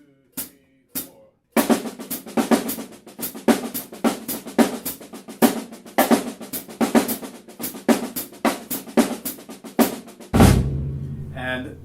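Drumsticks play a sticking pattern at a slightly quicker tempo, a steady stream of crisp, close strokes after two lone taps. A low sustained tone rings out at the end.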